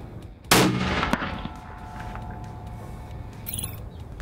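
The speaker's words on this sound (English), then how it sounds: "now second shot, barrel untaped" One loud rifle shot at a 100-yard range with the barrel untaped, a sharp, close blast that rings out into a long, fading outdoor echo, followed by a faint brief rattle.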